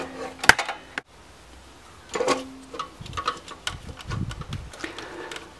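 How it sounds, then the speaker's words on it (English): A screwdriver tightens a plastic nut on a hot tub GFCI disconnect install, giving scattered close clicks, scrapes and small ticking knocks in quiet intervals with no voices. "I'm just using my screwdriver to push this nut on and tighten this up"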